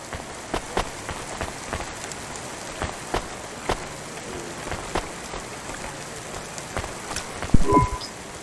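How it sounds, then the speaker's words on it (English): Steady rain falls in a rainy city street scene of the video game Cloudpunk, a soft continuous patter with scattered sharper drops and a brief louder burst near the end, no voices. "Don't let all the rain get you down."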